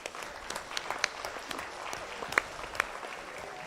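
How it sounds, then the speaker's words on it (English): Scattered clapping from a modest crowd at a junior agricultural steer show, steady and moderately distant, with a few sharper claps standing out. "I'd just like to give all the members one last round of applause"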